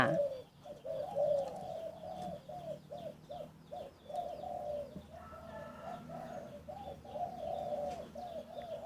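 Repeated rhythmic dove cooing, a steady series of soft hooting phrases close by, with faint chirps from other birds in the background.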